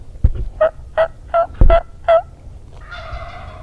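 A wild Merriam's turkey gobbles in a quick series of six rattling calls, fairly close, on a Nebraska pine ridge, with a couple of low thumps and a higher call at the end.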